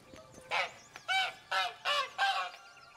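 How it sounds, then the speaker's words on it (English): A goose in The Witcher 3 honks five times in a row, loud and close, each call a nasal, raspy burst evenly spaced over a few seconds with no talking. "See if the goose talks."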